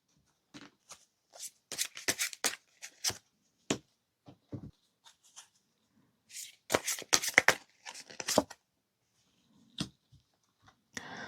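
Tarot cards shuffled and drawn at close range, with irregular bursts of crisp riffling and light slaps broken by short silences, soft and dry with no voices.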